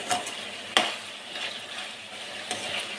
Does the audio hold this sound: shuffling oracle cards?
no